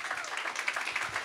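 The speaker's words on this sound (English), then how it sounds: "Let's give a round of applause there." Demo day audience applauding after a startup pitch, a short, moderately quiet burst of scattered clapping from a crowd.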